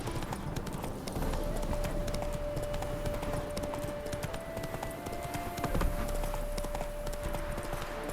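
Horse hooves clip-clop steadily in The Witcher 3: Hearts of Stone, a quick even rhythm of nearby footfalls over a constant background hum and ambient game sound, with no talking.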